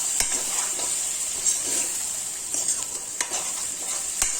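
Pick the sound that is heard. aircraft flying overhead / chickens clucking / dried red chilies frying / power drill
dried red chilies frying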